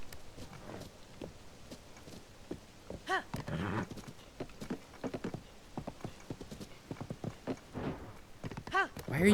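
Steady clip-clop of horse hooves from the video game Tears of the Kingdom runs throughout, with a voice speaking over the rhythmic trotting.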